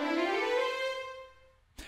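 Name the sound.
Sibelius violin playback with increased release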